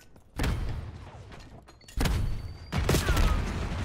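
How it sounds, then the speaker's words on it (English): Grenades going off in a video game firefight: three heavy broadband blasts land in sequence, each a sudden loud boom with a rumbling tail, the last one dense and sustained. "We're just throwing grenades, are we?"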